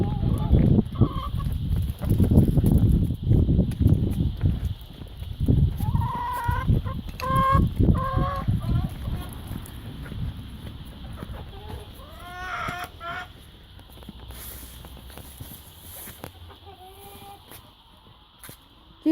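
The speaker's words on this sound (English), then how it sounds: "we've got quite a lot of chickens" Chickens cluck and squawk in a farm chicken shed, with a burst of scuffling and calls early on, then scattered clucks fading to quieter intermittent calls near the end.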